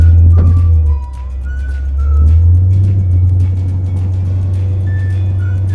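A Ford F100 pickup truck on a road test run, its engine giving a steady, loud low rumble that dips briefly and then swells back up as it drives along, with no talking.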